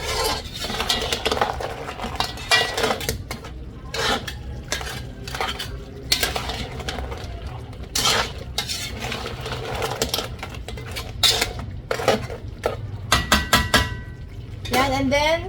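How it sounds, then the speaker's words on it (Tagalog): A utensil stirring sweet and chili crab in a pan makes repeated clinks and scrapes against the metal in an uneven rhythm, close and clear, with a faint sizzle beneath. "Haluin lang natin."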